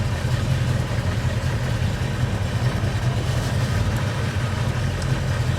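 A 1970s car engine with an upgraded HEI ignition idles steadily with a low, even rumble and regular pulsing throb, close by and continuous, with no talking.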